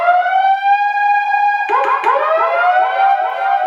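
A synthetic siren tone from the built-in oscillator of a Pioneer DDJ-RZ DJ controller, a loud steady electronic wail that breaks into a rapid warbling pulse partway through.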